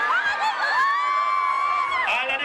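Girls in a party crowd scream and cheer together in one sustained, loud, high-pitched burst with whoops, rising and then cutting off near the end.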